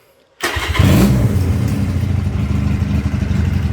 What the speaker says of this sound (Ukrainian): Працює двигун дуже добре, запускається з півтичка